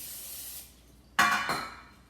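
Cooking spray hissing into a pie tin before rolls go in, two short close bursts, the second slightly weaker, following a faint fading background hiss.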